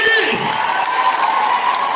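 A large crowd at a funeral ceremony claps and cheers for Fred, with whoops and shouts rising over dense, continuous applause, loud and close.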